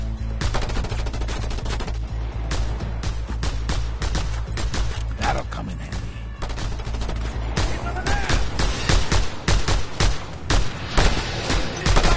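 Sustained automatic gunfire from a mounted gun in the video game Just Cause 2, dense rapid bursts of loud shots with heavy low rumble running nearly continuously throughout.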